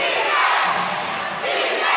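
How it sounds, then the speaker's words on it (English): A basketball crowd at a Parañaque home game chants in unison inside an arena, a loud, dense roar of many voices rising and falling in rhythmic waves. "Parañaque crowd chanting defense"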